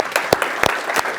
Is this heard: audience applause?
yes